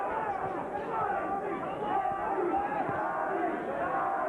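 A boxing arena crowd at the Arturo Gatti vs Wilson Rodriguez fight roars and shouts encouragement, a continuous loud cheering babble with no clear individual voices.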